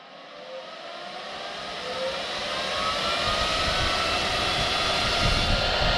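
A fan for a new heater core in a Kitfox 7 aircraft build, controlled by a rheostat, spools up from quiet to a steady loud whooshing whine, rising in pitch and volume over several seconds and then holding.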